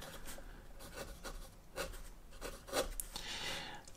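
A Lamy Al-Star fountain pen with a medium nib writing on ordinary notepad paper, heard as soft, close scratchy strokes in an uneven rhythm of short bursts, faint and alone.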